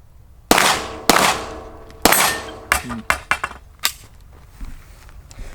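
A Sig Sauer P320 M17 pistol fitted with a Leupold DeltaPoint Pro red dot sight fires a string of sharp shots at an uneven pace outdoors. Each crack rings out briefly, with a few quicker follow-ups near the end.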